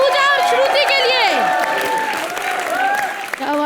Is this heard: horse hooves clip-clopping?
no